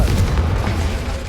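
A Confringo spell explodes in the video game Hogwarts Legacy as a deep, booming blast that rumbles on without a break.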